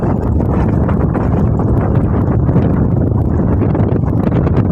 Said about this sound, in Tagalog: malakas na yung hangin mga kabisig